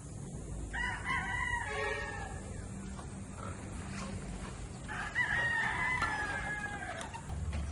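Roosters crow at chicken coops outside an apartment, two long crows heard across several seconds over rustling background noise, with faint clucking.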